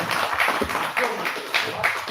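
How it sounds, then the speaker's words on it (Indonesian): Audience applause at an Indonesian Zello community meeting in West Java, a steady spread of clapping from a small crowd, close and continuous for a couple of seconds. "Beri tepuk tangan buat Kang Dika."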